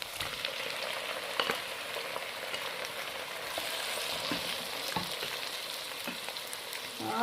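Tomatoes fry with garlic and onion in a pan for masala bhindi, giving a continuous wet sizzle broken by occasional stirring clicks and scrapes, close up and with no voices.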